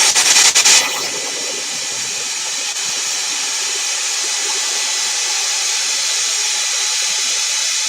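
A heat tool dries paint on a journal page, blowing a loud, steady hiss that runs the full length after a brief rougher burst at the start, with no talking.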